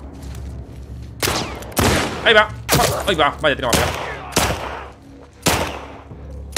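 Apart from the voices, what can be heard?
gunfire in a video game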